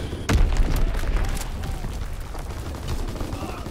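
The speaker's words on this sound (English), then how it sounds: "Dropping Fritz X-Bomb." A Fritz X guided bomb drops in the World War II shooter Call of Duty: WWII, landing as a single heavy boom. A long, rolling rumble of battlefield noise follows.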